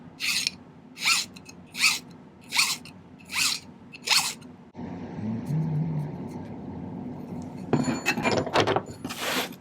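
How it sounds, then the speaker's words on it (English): A hand file rasps a bevel cut off a silver ring in six even, evenly spaced strokes, followed by duller scraping and handling noise. "Let's file this bevel cut off."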